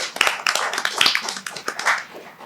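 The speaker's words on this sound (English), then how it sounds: "can I have another round of applause for him" An audience at an evening presentation event applauds, a dense, steady patter of many hands clapping close by for a couple of seconds with no voices over it.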